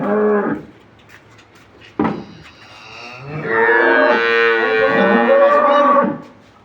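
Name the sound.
cow mooing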